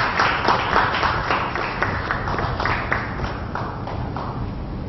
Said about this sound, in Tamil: அதனால ஒரு பெரிய கைத்தட்டல்.